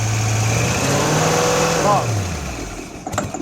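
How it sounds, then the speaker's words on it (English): An Amtex Inferno 500 carburetor engine runs at a steady high whine, then its pitch sweeps down as it winds off to a stop. The shutdown is followed by a few faint clicks and near silence. "you can simply shut down the engine by increasing the RPM first"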